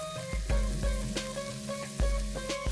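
Red chili powder and other spices hit a hot pan of green peas for a samosa filling, giving a steady close sizzle with a few sharp stirring clicks and scrapes.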